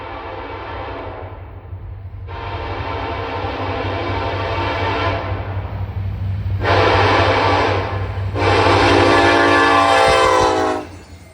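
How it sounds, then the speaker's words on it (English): A Norfolk Southern westbound manifest freight led by an SD70ACE locomotive, with an SD70MAC trailing, passes trackside under a steady rumble while its horn sounds in four loud blasts, the last two longer and strongest. "A westbound manifest with an SD70 ACE leader and a Wells Fargo SD70 Mac trailing second."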